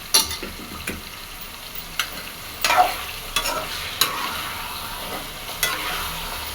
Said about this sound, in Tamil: சிக்கன் போட்டு நல்லா மிக்ஸ் பண்ணிக்கிட்டு நல்லா மிக்ஸ் பண்ணிக்கலாம்.